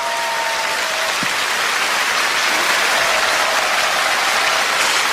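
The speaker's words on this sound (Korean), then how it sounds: "여러분 뜨거운 박수로 맞아주세요." A church congregation gives a steady, warm round of applause to welcome a poet, a dense, even wash of clapping that runs throughout with no talking over it.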